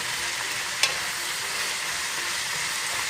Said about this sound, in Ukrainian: Не забувати помішувати нашу капусту.